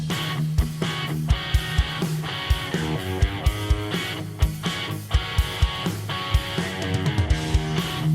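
A steady rock drum beat with regular kick and snare hits, layered under sustained, chordal electric guitars, playing continuously and fairly loud as a music-on-hold track.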